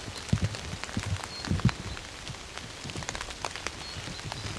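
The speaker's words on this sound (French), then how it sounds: "on est reparti pour une petite pluie" Light rain falling outdoors in Sweden, a steady soft patter of drops on surfaces with a few louder close drips, no voices, continuous throughout.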